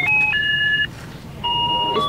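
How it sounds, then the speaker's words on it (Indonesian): A mobile phone rings with a bright electronic tone, two stepped chime phrases separated by a short gap, loud and close with no voices over it. "Istriku yang telepon,"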